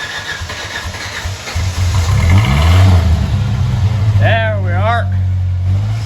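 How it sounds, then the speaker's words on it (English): A Ford Foxbody Mustang's engine cranks and fires up, rising into a loud, close, rumbling idle with a couple of revs, and someone speaks briefly over it. "now we know what everyone's here for, the startup."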